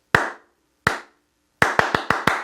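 Hands clap a ti-ka-ti-ka rhythm in a classroom rhythm dictation: two spaced single claps, then a quick run of five, close and crisp with nothing else around them.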